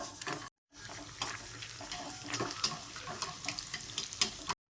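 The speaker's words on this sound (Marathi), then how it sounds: "असे छानपैकी थोडेसे लालसर होतोपर्यंत तळून घ्यायचे." Vegetable momos fry in hot oil, giving a steady, moderately quiet sizzle and crackle with small pops throughout and one brief gap of silence.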